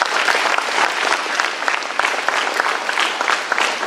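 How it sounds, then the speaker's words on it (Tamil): A crowd gives a company a loud, hearty round of applause, with dense, close clapping sustained from start to finish. "அதுக்காக ஒரு பலத்த கரகோஷம் இந்த நிறுவனத்தை கொடுக்கணும்"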